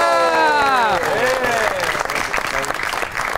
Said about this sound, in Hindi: आपकी बहुत सी तालियों में the one and only Ali Haider.